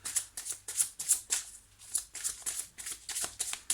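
Tarot cards are shuffled and drawn by hand in a rapid series of soft riffling flicks and slaps, close and fairly quiet, with brief pauses between bursts.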